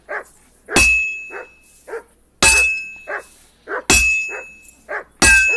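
A dog barks repeatedly in Kingdom Come: Deliverance, sharp barks alternating with loud, ringing metallic clangs of a sword being forged, in a steady back-and-forth rhythm.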